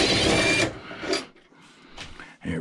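Loosening a wire terminal screw in an electrical panel during a strip-out: a loud, dense burst of grinding, rattling tool noise for the first half second, followed by shorter scraping and clicking bursts, with no one talking.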